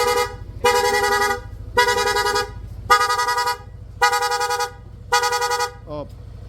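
Bosch horn fitted to a Yamaha NMAX V1 motorcycle, sounding in rapid mode: six loud, evenly spaced honks of about half a second each, close by, with a brief chirp at the end.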